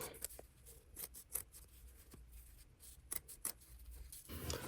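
Scissors snipping through the thick serged edge of a denim skirt, a few sharp, close cuts spaced irregularly with quiet pauses between them.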